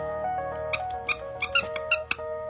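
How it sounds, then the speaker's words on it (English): A squeaker toy fitted in the nose of a homemade Helpy animatronic from Five Nights at Freddy's squeaks close by, with about half a dozen short, irregular squeezes. "I put a squeaker in his nose, so that's fun."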